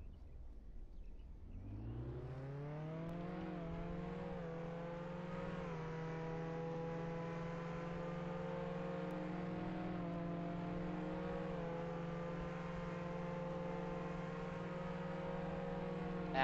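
A car engine in the Roblox game Jailbreak spins up from quiet and then holds a steady, loud, high-pitched revving drone with slight pitch wobbles, alone without talk.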